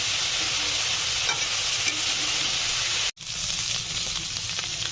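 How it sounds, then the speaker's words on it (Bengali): Chicken pieces coated in ginger garlic paste are stirred in a hot frying pan, giving a steady close sizzle with faint scraping from the spatula and a brief break near the end. "ভালো করে নেড়ে চেড়ে নিতে হবে আদা রসুন বাটাটা দিয়ে"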